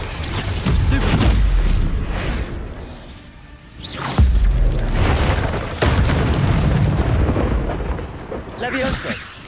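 Spell blasts boom and whoosh in rapid succession during Hogwarts Legacy combat, with a Stupefy cast among heavy explosive bursts, loud and continuous with brief gaps, while a player talks over the action.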